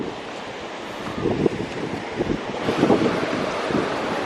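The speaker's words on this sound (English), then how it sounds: "Look, the waves are rough today." Rough ocean surf breaking along a cold beach at high tide, a continuous broad roar with swelling crashes, mixed with wind buffeting the microphone.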